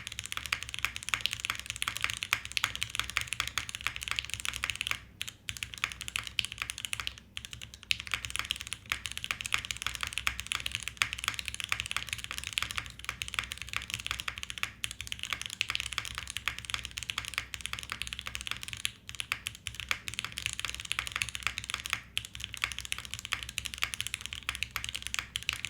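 Steady typing on a FUJI65 v2 mechanical keyboard with long pull switches on an aluminum plate, a continuous run of close, clicky keystrokes with a few brief pauses and no talking.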